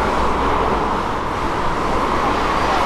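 Jeep Renegade passing in busy avenue traffic, a dense continuous roar of road noise and engines with no clear single pass-by standing out.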